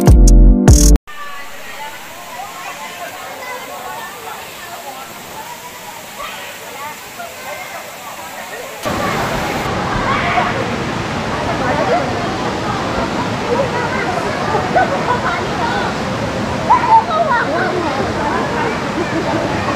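A waterfall in Tanay rushes steadily, quieter at first and then louder and nearer, as a continuous broadband roar with no talk over it.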